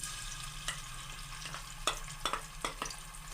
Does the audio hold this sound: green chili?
yes